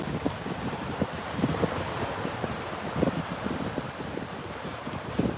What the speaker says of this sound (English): now we're on Hua Hin Beach